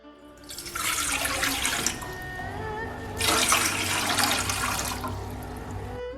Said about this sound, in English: Pour 2 cups of water into a pot.